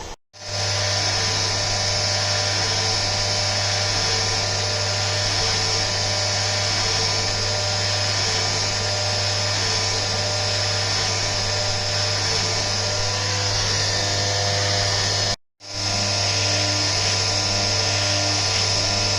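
Steady high-pitched whine of a CNC end mill cutting aluminium on a 5-axis trunnion, with a low constant hum beneath and a brief dropout near the end before resuming.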